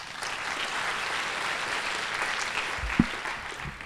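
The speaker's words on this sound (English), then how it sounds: "Let's give them a warm round of applause." Steady applause fills a hackathon closing ceremony, a crowd clapping continuously with no talking.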